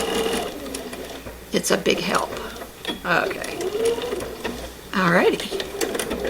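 A home sewing machine stitches the final bottom seam closed on a small stuffed farmhouse chick fabric shelf sitter, running in a few short bursts while someone talks nearby.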